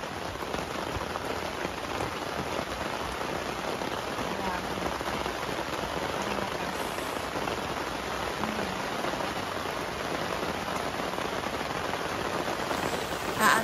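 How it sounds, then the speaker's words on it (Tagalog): Heavy rain pounding steadily on surfaces at a campsite at night, a dense, continuous wash of drops with no wind, loud and unbroken throughout with no voices. "Malakas lang talaga ang ulan."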